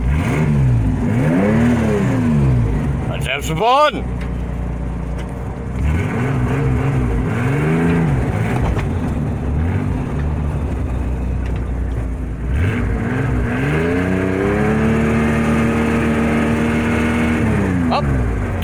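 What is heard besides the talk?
logging truck engine running and revving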